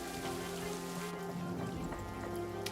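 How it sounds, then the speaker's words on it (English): Steady rain falls across a World War I trench in the game All Quiet in the Trenches, a dense continuous hiss with a low ambient rumble beneath, unbroken throughout. "And of course it's still raining."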